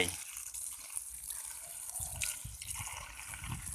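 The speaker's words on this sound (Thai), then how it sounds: "ปิดน้ำครับเลี้ยงน้ำนิดหนึ่ง" Tap water runs and trickles steadily into a new plant pot to water a Thai charm plant, with faint splashing and no clear speech over it.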